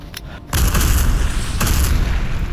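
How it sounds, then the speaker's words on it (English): An explosion in the S.T.A.L.K.E.R. video game: a few faint clicks, then a loud, close boom with a heavy rumbling tail and a second blast surging partway through. "Thank you, explosion. Very cool."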